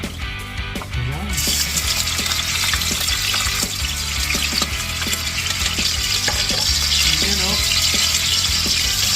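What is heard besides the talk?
garlic frying in hot cooking oil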